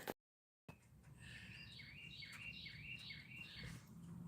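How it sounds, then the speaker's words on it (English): A bird repeats a series of bright, rising chirps in a steady rhythm, a little distant, over a soft outdoor hiss. "I don't know if you guys can hear that bird."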